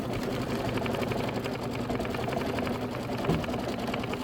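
A home embroidery machine stitches out an appliqué ice cream cone design, its steady rapid needle rhythm clattering continuously and close by, with a few faint background sounds.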